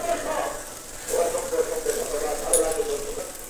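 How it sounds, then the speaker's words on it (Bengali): Potatoes in spice paste sizzling and frying in a pan while being stirred, a close, steady crackle with scraping bursts from the spoon throughout. "আলুটা নাড়াচাড়া করে খুব সুন্দর করে আমি কষিয়ে নিয়ে নেব"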